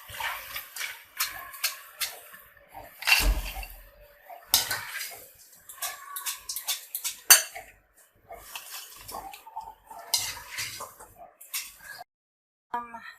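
Fried chak chak dough pieces are moved into a pot, with close, intermittent clinks, taps and scraping of utensils and cookware in a kitchen.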